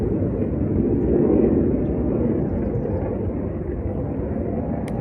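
Jet aircraft pass overhead as a steady, loud, broad roar that swells slightly and then holds at a constant level, with no talking.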